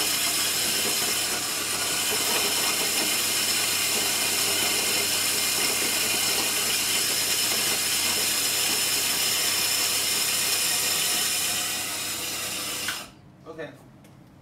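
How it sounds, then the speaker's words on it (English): A new coffee machine grinding coffee beans, a loud steady whirring drone that runs unbroken for about thirteen seconds before cutting off, followed by a couple of small clicks, heard close up. "it takes quite a while to finish grinding"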